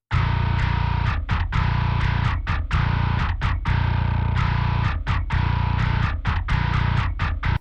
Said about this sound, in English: the new Behemoth Bass by Solemn Tones